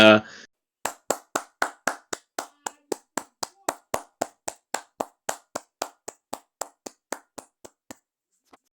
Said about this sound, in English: So, round of applause to Midget Matt.